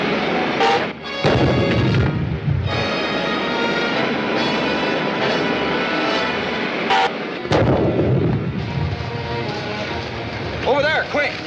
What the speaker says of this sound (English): And the ray gun, blast them.